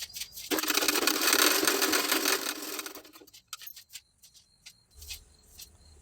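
A sewing machine stitches side tucks on a garment during tailoring, a dense whirring burst lasting roughly two and a half seconds, followed by light clicks and rustling as the fabric is handled.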